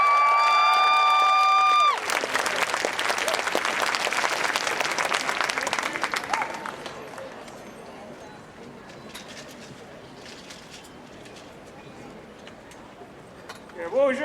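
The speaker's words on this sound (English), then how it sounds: "Can we give him a warm round of applause?" A crowd at an outdoor land-protection march breaks into applause for a speaker. After a brief steady tone, a burst of clapping and some cheering lasts about four seconds, then fades into quieter open-air crowd murmur.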